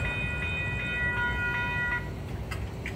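A Union Pacific inbound manifest freight train rolls slowly through the Lindsay Road crossing, a steady low rumble of cars with faint ringing tones from the crossing, continuous and fairly close, easing off toward the end.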